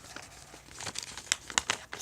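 Sheet of paper folded into a paper boat, with soft irregular crinkles that grow into several sharper crisp creases over about two seconds, close and quiet with no talking.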